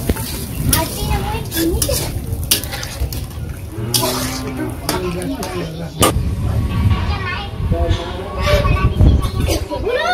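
Water poured into a pan of frying chicken curry with eggplant, sizzling hard under steady, close stirring and scraping, with a voice talking over it.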